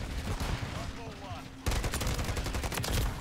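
SVA 545 rifle fire in Call of Duty MW3, a dense, steady stream of rapid shots filling the second half, preceded by quieter game ambience.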